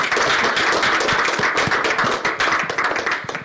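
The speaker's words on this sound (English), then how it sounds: "Let's give Mr. Jones a big round of applause for coming out." A town hall audience applauds together, a dense steady wash of many hands clapping close by, with sharper individual claps popping through the sustained roar.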